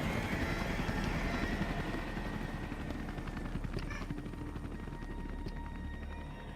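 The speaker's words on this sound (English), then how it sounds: "There go the boys. In my helicopter." Helicopter in Metal Gear Solid V: The Phantom Pain, a low rumbling rotor drone that slowly fades as the aircraft flies off, fairly faint and alone.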